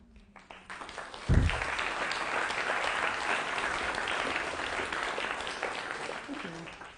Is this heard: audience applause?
yes